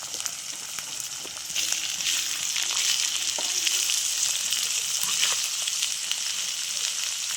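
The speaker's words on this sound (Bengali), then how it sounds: "বিনস আর গাজর একসঙ্গে ভেজে নেব" Green beans and carrots fry in hot oil for fried rice, giving a steady, fairly loud sizzle with crackling bursts and a few scrapes of stirring throughout.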